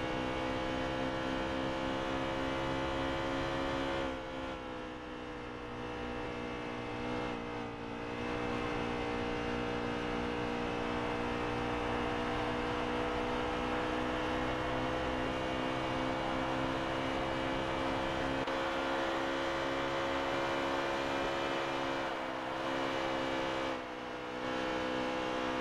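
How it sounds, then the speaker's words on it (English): Steady, sustained engine whine of NASCAR stock cars in a racing video game, a dense harmonic drone with brief dips, distant and fairly quiet, no talking. "turn up your volume and let's hear these engines"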